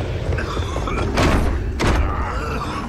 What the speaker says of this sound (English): The door must have sealed.